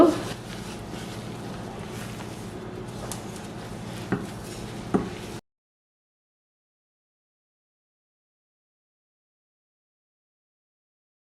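Roasted sesame seeds are stirred in a pan while making ellu urundai: close scraping and clinking of a spoon against the pan for about five seconds, with a couple of sharper knocks, then silence.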